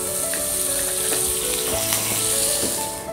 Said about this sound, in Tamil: பேன் சூடானதும் கொஞ்சம் பட்டர் சேர்த்துக்கோங்க.